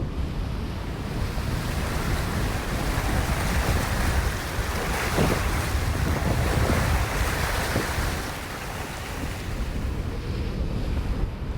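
Sea waves rush and wind roars steadily while a sailboat heads north in open water, a dense, continuous wash of surf and gusting wind buffeting the microphone, loud and close, with no voices.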